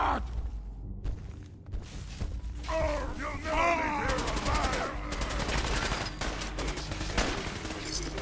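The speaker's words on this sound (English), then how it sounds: "Just seeing the flashes of their guns shooting." Gunfire crackles through a Fallout 4 battle, rapid bursts of shots layered over groans and yelling, with a busy, dense mix that holds steady and never lets up across the stretch.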